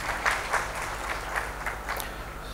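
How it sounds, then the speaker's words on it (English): A launch-event audience applauds steadily for a couple of seconds, with dense clapping at moderate volume and no voices over it. "big round of applause, please."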